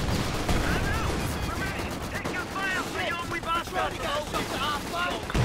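Machine gun fire rattles steadily through a Company of Heroes 2 2v2 battle, mixed with other gunfire and battlefield noise, while a commentator talks over it throughout.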